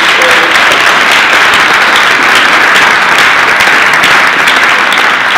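Loud, dense audience applause for Ramapo High School, a sustained roar of many hands that fills the space evenly throughout.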